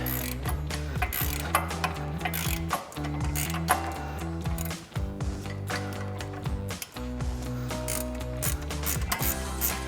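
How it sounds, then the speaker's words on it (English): Rapid clicking of a 21mm ratcheting wrench backing out Loctite-coated brake bracket bolts on a Jeep Wrangler JL, loud and close, with repeated bursts of ratchet teeth and brief pauses between strokes. "I'm going to grab a 21mm ratcheting wrench to run these out"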